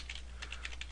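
Typing on a computer keyboard: a quick run of light, clicky keystrokes in small bursts, close and fairly quiet over a steady low hum, with no voices.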